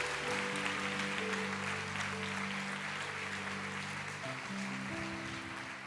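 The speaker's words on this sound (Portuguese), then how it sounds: "Aplauda o Senhor" A church congregation at a family conference applauds quietly and steadily, the clapping fairly distant, while sustained organ or keyboard chords play underneath.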